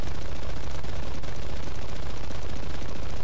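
Machine gun fire from an aircraft in a World War air combat video game, a loud continuous rapid burst of rattling shots lasting the whole stretch with no pause and no talk.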